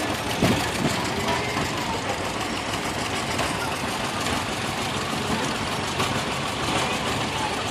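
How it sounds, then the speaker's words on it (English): A John Deere 50 tractor running on propane and pulling a corn picker in an outdoor power parade gives a steady, faint, rumbling engine idle against a broad noisy background, continuous with no clear breaks. "Right here we got a John Deere 50 on propane."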